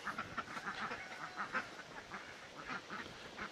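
A group of young farm ducks, both drakes and hens, quacks over and over in soft, steady bursts, fairly faint and at a distance, with no talk.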